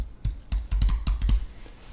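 Computer keyboard being typed on to enter a dataset name: a quick, uneven run of sharp keystroke clicks, close and fairly clear, with no talking.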